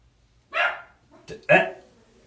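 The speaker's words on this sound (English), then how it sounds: "You can hear my dog Rufus barking in the background." A dog barks twice with a short gap between, fairly close and loud in an otherwise quiet room.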